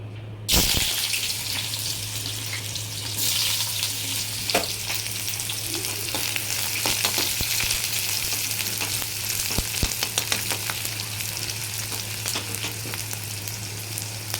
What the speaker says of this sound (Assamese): ইয়াত তেল গৰম হৈ গৈছে, এতিয়া মই পিঁয়াজখিনি দি দিম।